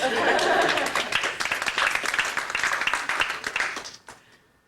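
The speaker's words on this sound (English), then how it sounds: "Excuse me, I could use a little more applause." An audience at a 1994 retirement dinner gives a short burst of scattered hand clapping that thins out and fades after about four seconds, with faint murmuring underneath.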